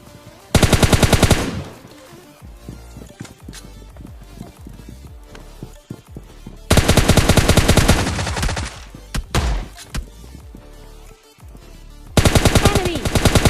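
An AK and an M4 fire in a shooter video game, with loud sustained bursts of automatic fire in three separate volleys and quieter game sounds and footsteps between them.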